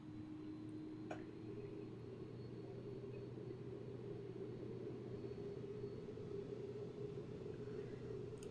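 An A300 freighter in X-Plane 11 rolling down runway 36 left for takeoff, a steady low engine rumble and droning hum with a single faint tick early on, continuous and fairly quiet.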